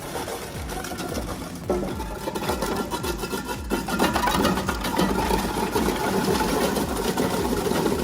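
Genox V1000 dual-shaft industrial shredder with a 90 kV motor and 8,000 Nm torque shredding GPPS plastic sheets, a loud steady mechanical churning with rapid rhythmic grinding pulses and crackling, with no talking.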